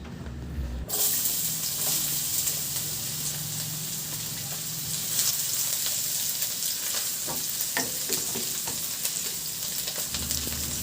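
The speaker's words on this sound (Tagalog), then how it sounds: "Magpainit muna ako ng mantika sa kawali at igisa ko na rin yung bawang" Garlic sautéing in hot oil in a kawali, a steady close sizzle that runs the whole time with occasional stirring clinks and crackles on top.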